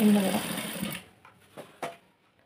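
A sewing machine stitches thread piping onto a blouse neck in one short, close whirring run that stops after about a second, leaving a few faint clicks.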